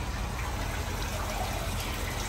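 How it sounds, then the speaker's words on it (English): Water pours steadily into a custom-welded 17-foot extra-wide boat hull during a leak test, a continuous broadband rushing gush that stays even and close throughout with no talking. "Filling it with water."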